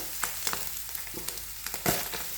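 Ingredients for a fish cutlet filling sautéing in a pan, with a soft steady sizzle broken by several short scraping stir strokes, fairly quiet and with no voices.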